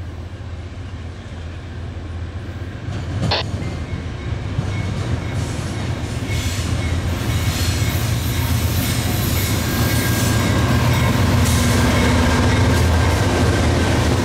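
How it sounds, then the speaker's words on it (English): A Norfolk Southern freight train rumbles past close by at Charlottesville with steady loud rolling noise, a brief high squeal early on, continuing without letup for the whole stretch. "this is our first Norfolk Southern train at Charlottesville"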